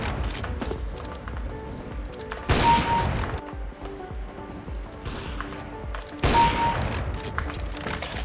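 In a video game heard through a Razer Kraken V3 headset, two short bursts of gunfire crack out several seconds apart, loud and sharp over a low background of in-game movement, with no voices.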